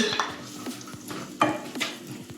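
Chopped onion goes into a pot for mushroom risotto, bringing clinks of a utensil against the pan and a light, intermittent sizzle, close by and moderately loud, with no talking.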